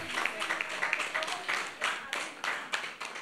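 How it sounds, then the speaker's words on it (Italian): Applause for a family during the San Giuseppe feast tables in Bivona, rhythmic clapping in distinct bursts from a gathered crowd, moderately distant, with voices mixed in. "fare un grande applauso alla famiglia Giuliano e Lia"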